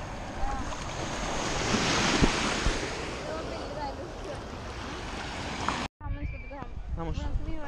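Surf breaking on a crowded beach, a steady wash of waves and wind buffeting the microphone, then a brief cut to quieter surroundings with voices talking.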